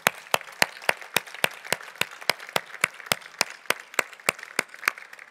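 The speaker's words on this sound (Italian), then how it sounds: "Per loro vi chiedo un applauso." An audience at a Milanesiana evening applauds guests Claudio Magris, Paolo Di Paolo, Antonio Ballista and Bruno Canino with crisp, evenly spaced claps that sound like a few people clapping close by, steady throughout.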